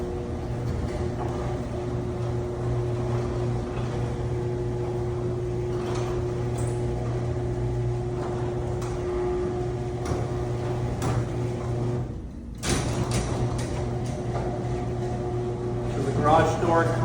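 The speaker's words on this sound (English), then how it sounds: "Got the garage door opener here. Wall mount. Open that up." A wall-mounted garage door opener in a newly built home runs the door with a steady mechanical motor hum that drones for about twelve seconds, briefly breaks off, then resumes with some rattling.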